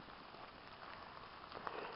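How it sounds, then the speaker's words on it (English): Rain falls steadily on a bivvy shelter at night in the small hours, a dense, even patter with no break and no voices. "It's been raining for, I don't know, it's like 4 o'clock in the morning now"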